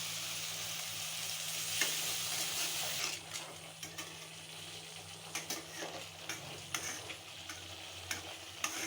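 Chana masala spices stir-fry in a pan with a splash of water, a soft hissing sizzle that is denser at first, then thins into quieter frying with intermittent scrapes and taps of a spoon.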